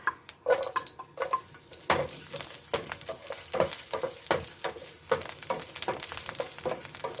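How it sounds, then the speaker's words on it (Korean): Carrots stir-fried in a hot pan as a Chinese cooking-exam dish is prepared: steady sizzling with repeated scraping and clinking of a utensil against the pan, loud and close, no talk. "당근은 충분히볶아야 되죠"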